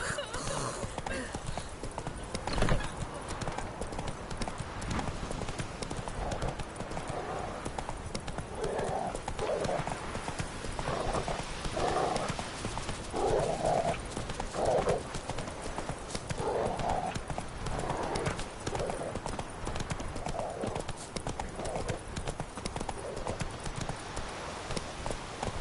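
Roach the horse gallops in a video game with steady, rhythmic clip-clop hoofbeats and occasional snorts or whinnies, running continuously at a loud, even level.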